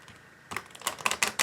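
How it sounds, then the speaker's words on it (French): A card from a lovers' oracle deck sliding out of the pack, a short run of soft papery slaps and ticks that grows slightly louder, close and alone. "La carte qui glisse."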